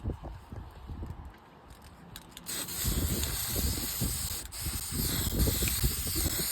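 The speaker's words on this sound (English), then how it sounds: "I'm spraying over it as well because it's the same color." A spray paint can hisses steadily while coating an iron bistro patio set outdoors, a close, continuous spray with brief pauses and light rattling at the start.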